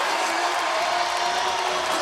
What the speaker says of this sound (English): This crowd is getting into it.